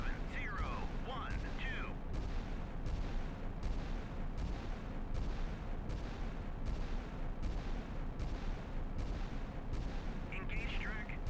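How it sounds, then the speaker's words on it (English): A naval gun salvo in the Sea Power naval warfare game, with steady rhythmic booming roughly every second carrying on throughout, and a radio voice talking briefly at the start. "Engage track 7012. Salvo fire."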